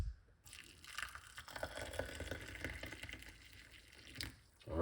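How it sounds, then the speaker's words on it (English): Hot water pours into a cup for tea, a soft continuous splashing and trickling stream lasting several seconds, close by and fairly quiet, with no speech. "Pour some hot water on it."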